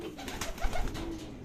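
Racing pigeons arriving at their loft after a tiring 92 km race from San Jose, Nueva Ecija, with soft, close cooing and faint fluttering in a brief moment.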